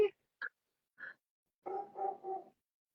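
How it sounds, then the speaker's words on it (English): A guide dog puppy gives a few short yips and barks in the background, spaced out and faint, then a quick cluster of three at the end. "is that your dog I can hear in the background?"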